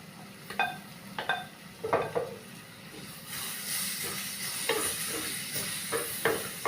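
Chopped tomatoes hit a hot pan of prawn and mango curry base, giving a steady close sizzle and hiss with a few sharp bursts and stirring scrapes, more intense in the later half.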